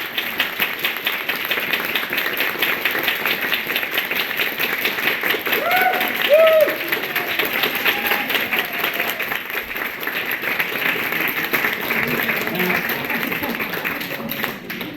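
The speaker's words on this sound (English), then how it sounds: "let's do a bit of clapping" A group of people clap their hands together at a common law gathering, a steady dense patter of claps lasting throughout, moderately loud, with some voices and murmuring mixed underneath.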